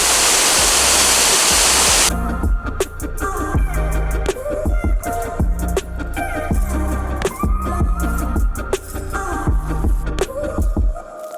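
A waterfall roars at the base of the falls beside a Utah lake: a loud, steady rush of water that dominates the opening seconds, then carries on beneath a busy mix of other sounds for the rest of the clip.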